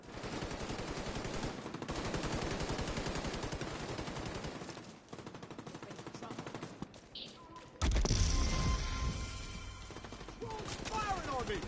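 Gunfire in Division 2, dense rapid automatic bursts crackling continuously, then a louder, brighter volley of shots with sharp impacts toward the end, over an active combat background.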